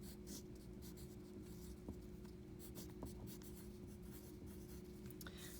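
Pencil writing a name on first-grade handwriting paper, a steady close scratching with a few light taps, quiet and continuous against a low background hum.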